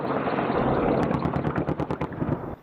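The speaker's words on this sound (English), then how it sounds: "these exercises are a great opportunity for ground crews, pilots, and gunners to get more experience firing their weapons" Military weapons firing during exercises involving ground crews, pilots and gunners, a loud, dense roar of gunfire that breaks into rapid machine-gun bursts before cutting off abruptly.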